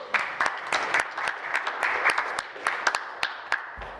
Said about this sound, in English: if you're the clerk of the year, you probably get 2 golf claps